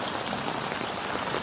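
Heavy first monsoon rain in the Konkan falls during a thunderstorm, a dense, even hiss of drops hitting surfaces and standing water, with no thunder or voices in this short stretch.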